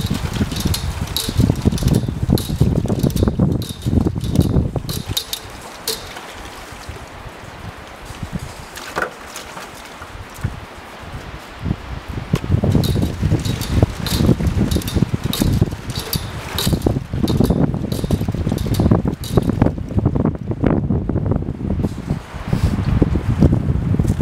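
Strong wind gusts roar steadily around a forest cabin in Finland at thawing temperatures, a dense continuous rush that eases briefly then surges back, with rapid rattling or flapping in the gusts.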